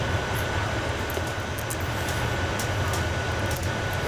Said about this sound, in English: So here we're taxiing down to runway 23.